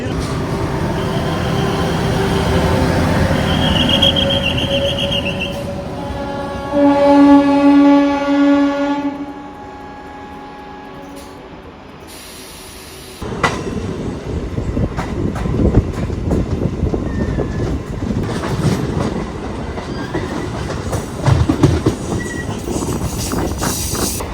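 An electric DEMU train from Baramulla to Budgam in winter Kashmir rumbles along the rails nearby, a long horn blast sounding partway through, then the loud clatter of wheels and cars rolling past.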